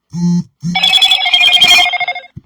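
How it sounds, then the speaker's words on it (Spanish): A mobile phone chimes with a short burst of notification tones, two low beeps followed by a brighter ringing jingle, close and clear with no voices. "Oh, mi teléfono. Las notificaciones"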